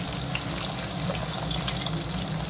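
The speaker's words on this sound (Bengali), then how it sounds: "ডিমগুলো লাল লাল করে ভেজে তুলে নেবো।" Eggs frying in hot oil in a pan until browned for an egg curry, giving a steady, close sizzle and crackle that runs unbroken throughout, with no talking.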